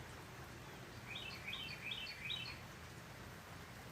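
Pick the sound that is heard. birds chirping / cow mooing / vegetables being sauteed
birds chirping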